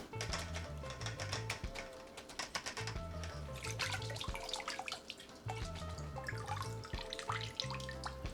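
Cold tap water runs and splashes in a sink while dried sorrel is rinsed, with steady close water noise broken by brief pauses and handling sounds throughout.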